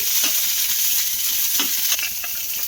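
Chopped tomato frying in hot oil gives a loud, continuous, close hiss and sizzle with a few brief crackling bursts, no voices.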